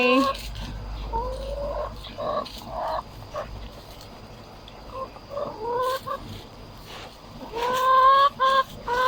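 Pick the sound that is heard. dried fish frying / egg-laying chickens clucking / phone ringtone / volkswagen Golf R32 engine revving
egg-laying chickens clucking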